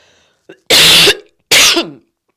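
Two sharp, loud coughs close by, separated by a short pause, with quiet breaths around them.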